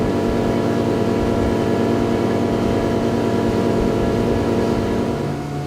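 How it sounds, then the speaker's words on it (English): A motorboat engine runs at full throttle with the outboard trimmed up, a loud, steady droning roar with constant hull and water rush, unbroken and close throughout. "We hit the throttle down hard and then we trim that motor up as high as possible."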